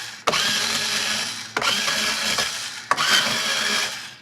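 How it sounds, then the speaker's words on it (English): Electric string winder loosening guitar tuners to take off old strings, three bursts of steady high whirring, each lasting over a second and split by brief clicks, close and fairly loud. "there's lots of tuners, so I just got to loosen these just a little"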